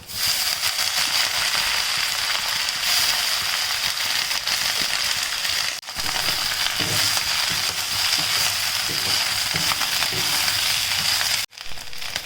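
Drumstick leaves fry in a pan with a continuous, fairly loud sizzle and crackle, broken by a couple of brief pauses and faint stirring, with no talking.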